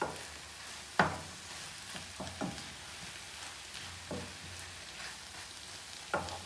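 Bolognese sizzles steadily in a pan while JD seasoning is stirred in, with a spoon scraping and clacking in a few distinct knocks against the pan over the constant frying hiss. Nobody talks.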